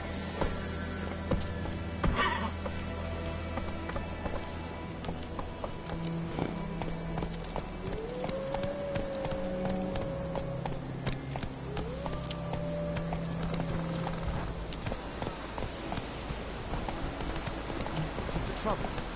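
Roach, a horse in The Witcher 3, gallops with steady rhythmic hoofbeats under game music and background effects, while voices speak over the action.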